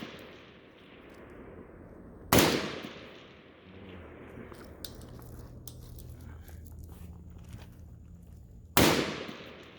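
Rifle shots at an outdoor shooting range crack out twice, loud and sharp, several seconds apart, each followed by a fading echo over quiet background noise.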